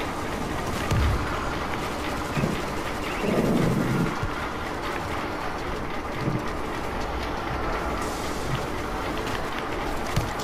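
A train rolls steadily through the World War Z video game, a continuous rumbling clatter lasting about ten seconds, with a few low thuds and no talking.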